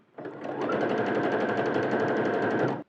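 Sewing machine running a wide zigzag stitch on a seam, stitch width 5 and length 2; one continuous close, even whirring burst of rapid needle strokes lasting a few seconds before stopping.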